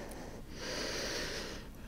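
A slow, steady breath drawn in and let out during a yoga forward fold, close and fairly soft, with an airy rush swelling through the middle and easing off toward the end.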